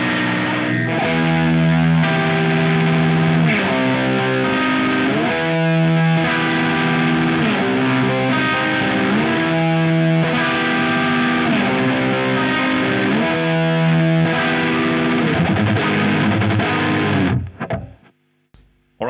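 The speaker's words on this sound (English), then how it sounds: "it sounds more like a fuzz than a distortion pedal at this point in time" A Boss Mega Distortion pedal at maximum gain makes an electric guitar sound fuzz-like, with loud sustained saturated chords changing in a steady rhythm for about seventeen seconds before stopping into brief quiet handling noise.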